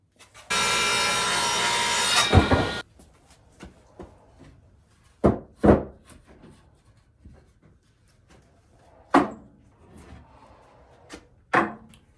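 A saw cuts through wood for picture frames outdoors on a windy day, giving a loud, steady rasping burst of about two seconds, then several sharp knocks and taps of wood being handled.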